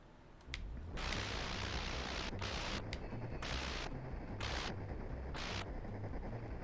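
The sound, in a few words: gunfire from a video game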